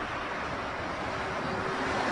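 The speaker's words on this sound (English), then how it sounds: "Sounds like it's really windy." Strong wind buffets a beach, a steady roar of broadband noise holding at constant loudness throughout with no pauses or gusting breaks.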